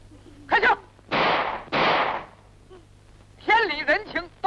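Gunfire in an old Chinese film, two broad noisy bursts in quick succession framed by shouted dialogue before and after.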